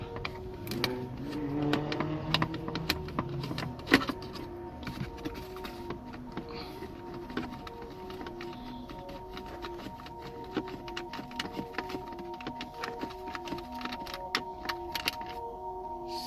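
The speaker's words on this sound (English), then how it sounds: "You get your screwdriver and you start taking these three screws out." A screwdriver works screws out of a 2003-2007 Honda Accord dashboard, giving faint, steady ratcheting clicks and small scraping ticks close by, with a soft repeating mechanical tone underneath.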